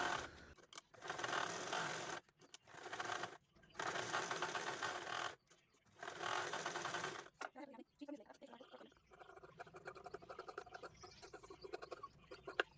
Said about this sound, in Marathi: चला शिलाई मशीनवरती दाखवते मी तुम्हाला हे स्टिच कसं करायचं